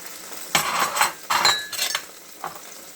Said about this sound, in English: What I'm doing now, I'm going to add the bay leaf, the onions,